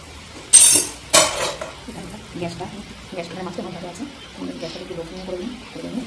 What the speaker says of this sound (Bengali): কড়াটাতে ঢাকা দিয়ে দেবো একটু